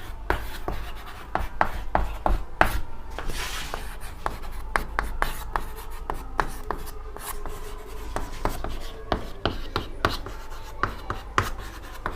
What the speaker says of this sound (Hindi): दो चार पॉइंट और लिख लेते हैं।